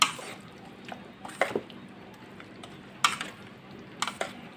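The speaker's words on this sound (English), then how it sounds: "we have to give a good mix right now. Let's mix it very well." A tomato paste mixture for chicken biryani is stirred in a hot pan, with gentle sizzling and wet scraping strokes in uneven bursts, close and fairly loud, without talk.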